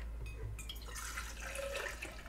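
Milk poured into a cup, a steady close liquid trickle and splash running throughout, loudest in the latter part, with no talking.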